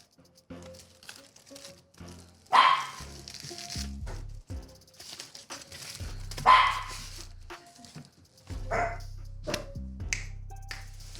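A Chihuahua lets out two sharp, close yapping barks, heard over a busy clatter of keyboard clicks at a keyboard-building session.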